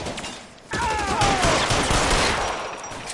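Shooter video game gunfire erupts suddenly after a near-quiet moment, a dense rattling fusillade with whizzing streaks that stays loud and close for a few seconds.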